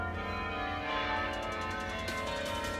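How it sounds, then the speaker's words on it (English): Church bells at Bond University ring steadily with rich, overlapping tones that blend into a continuous wash, moderately loud with no voices. "You hear the bells?"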